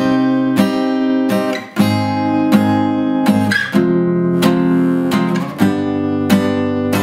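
An acoustic guitar plays open chords without barre, strummed close and loud in a steady rhythmic pattern, three strokes on each chord with brief accented changes between chords, played alone without voices.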